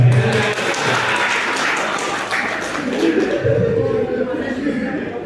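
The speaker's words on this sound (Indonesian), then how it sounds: "Tepuk tangan Mas Mega." A room full of people claps in a sustained round of applause, dense and fairly close, tapering slightly toward the end.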